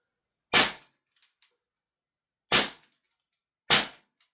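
An airsoft gun fitted with an Eshooter Flare Smoky BT smoke tracer unit fires three sharp, loud single shots spaced apart, each followed by faint ticks and clicks in near silence.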